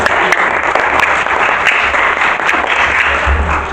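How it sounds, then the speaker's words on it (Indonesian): Parents at a kindergarten recollection at Wisma Samadi receive a hearty round of applause, a close, loud, dense patter of many hands clapping steadily without pause. "Kita berikan tepuk tangan meriah untuk mama papa."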